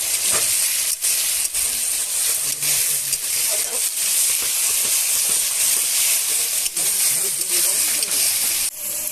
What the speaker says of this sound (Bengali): এবার আমরা মশলাটাকে কষিয়ে নিব।